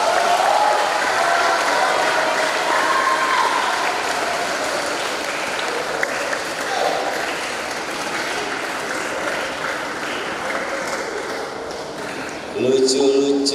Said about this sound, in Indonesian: Tepuk tangan untuk anak SDIT.